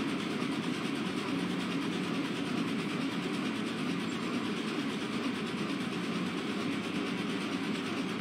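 A train ride in the video game Gang Beasts gives a steady, loud rolling rumble with a continuous mechanical rattle that holds unbroken throughout, with no speech.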